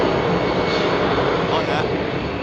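A jet airliner departing Heathrow at night roars steadily, a broad loud engine rush filling the air without pause.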